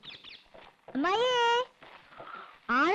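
A cat meows twice, sharp and rising, close by. Muffled talk and rustling fill the gaps between the cries.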